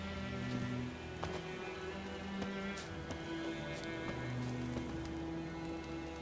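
Hooves of the horse Roach in The Witcher 3 clip-clop steadily over a low ambient bed of music, fairly quiet and even in rhythm.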